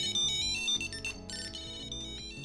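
A Tile Slim Bluetooth tracker rings at maximum volume after being triggered from the Tile app, giving a loud, continuous electronic ringtone melody of bright repeating tones with no talking.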